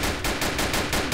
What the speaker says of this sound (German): Aga knallt die erstmal ab.